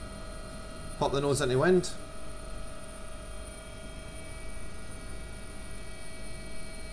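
Simulated AW-139 London Air Ambulance helicopter in X-Plane 11, lifting into a hover. A steady rotor and turbine drone with a constant tonal hum runs throughout, and someone speaks briefly over it near the start.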